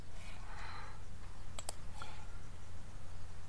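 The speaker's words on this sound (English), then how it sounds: "So what I'm going to do at this point here is just click the close button." A computer mouse clicks the close button, giving two quick sharp clicks close together against a quiet background hum.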